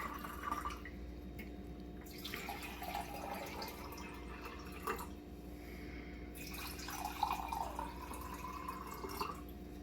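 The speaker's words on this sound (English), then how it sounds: "we're going to pour some water into all of our containers here" Water poured into several containers for a children's activity, faint trickling and dripping with short bursts of pouring separated by quieter pauses against a low steady hum.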